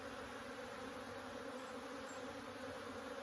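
Honey bees hum at an open hive in a steady, even drone that holds without pause, quiet and continuous with no voices over it.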